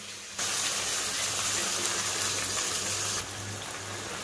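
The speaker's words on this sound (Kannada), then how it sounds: "ಈಗ ಇದೇ ಮಿಕ್ಸಿ ಜಾರ್ಗೆ ಸ್ವಲ್ಪ ನೀರು ಹಾಕ್ಕೊತೀನಿ." Water poured into a mixer jar, a steady gushing splash that starts abruptly, runs for about three seconds and then eases off, with no one talking.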